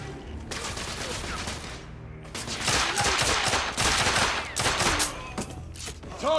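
Gunfire in the video game The Order: 1886, dense bursts of rapid shots crackling over a sustained chaotic din, loud and close with brief gaps.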